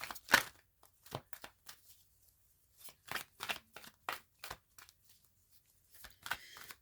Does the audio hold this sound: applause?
no